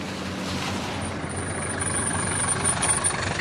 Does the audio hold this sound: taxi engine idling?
yes